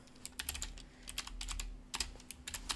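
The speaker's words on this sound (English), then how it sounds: "I'm going to type in who I am, what I do." Keys clatter on a computer keyboard at close range in quick, uneven bursts of taps with short pauses, set against a quiet room hum.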